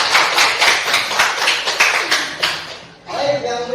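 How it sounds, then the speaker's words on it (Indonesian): Classroom applause for a student, with a group of pupils clapping in a quick, uneven patter for about three seconds that then fades as a voice begins speaking. "beri aplaus kepada Melisa."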